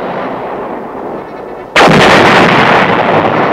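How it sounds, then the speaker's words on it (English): A loud booming blast from 8-inch self-propelled and 155-millimeter howitzers cuts through a steady rumble, then lingers as a dense roaring wash close by. "8-inch self-propelled howitzers and 155-millimeter howitzers are an"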